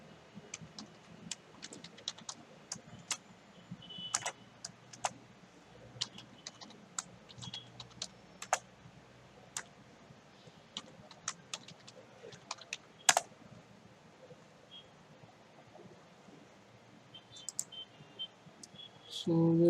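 Login credentials are typed on a computer keyboard, a quiet scattering of irregular key clicks with short bursts and pauses, close and faint in a still room.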